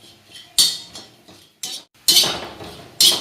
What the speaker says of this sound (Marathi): खोबरं भाजून घेते. असंच परतवत राहते.